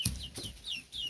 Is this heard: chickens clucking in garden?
yes